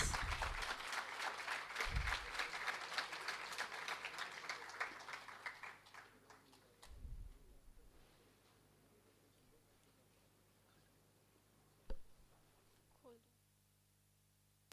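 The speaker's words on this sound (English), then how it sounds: "can we have a huge round of applause?" Audience applause at a college E-Summit launch event, loud and dense clapping for about six seconds before tapering off into a quiet room with a few faint knocks.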